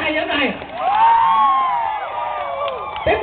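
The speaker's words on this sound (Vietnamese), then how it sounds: "vỗ tay cho hai nhóm này" A group on a company trip cheers and whoops loudly for two teams, with shouted voices rising and falling close by; clapping is not distinct beneath the yelling.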